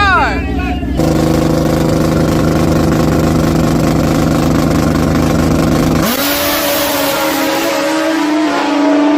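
Drag racing motorcycle roaring at a grudge race event, loud sustained engine drone with a sharp rise in pitch about six seconds in as it launches, crowd voices and talk faintly mixed in.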